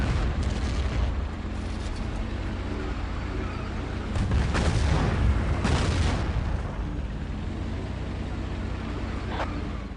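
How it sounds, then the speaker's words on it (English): Aircraft bomb tanks crossing a bridge in the video game Battlefield 1942, a steady rumbling battle backdrop broken by several heavy booms and blasts, the strongest bunched near the middle. "it looks like our aircraft are doing a pretty good job bombing those tanks as they try to get across the bridge"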